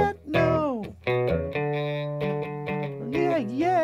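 An electric guitar plays a riff through distortion, with bending sustained notes and a held power chord in the middle, loud and close.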